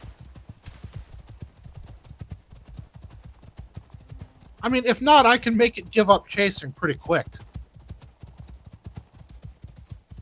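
Horse hooves clip-clop in a steady trotting rhythm throughout, from the video game Icarus on its Styx map, with someone talking briefly over the hoofbeats midway.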